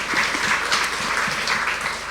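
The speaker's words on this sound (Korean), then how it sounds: "우리 예배를 받기 합당하신 주님께 영광과 감사의 박수를 올려드립니다." Congregation applauding during a Korean Sunday church service in Ho Chi Minh City, a dense, steady wash of many hands clapping together at close range, sustained throughout without pause.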